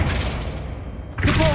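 Flipendo spell cast in Hogwarts Legacy, heard as a low rumbling game soundscape that breaks into a sudden, bright whooshing burst near the end, loud and close.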